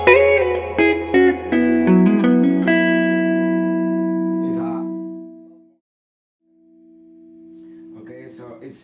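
Electric guitar with a bright tone capacitor switched on: a quick run of picked notes and chords ringing out and fading, then a single sustained note swelling back in, with brief voice sounds between.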